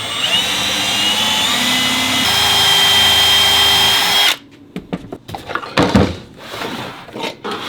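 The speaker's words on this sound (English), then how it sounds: "now I'll drill them out" A power drill whines steadily as it bores through wooden toy beads, its pitch stepping partway through, then stopping abruptly and giving way to intermittent clatter and handling knocks.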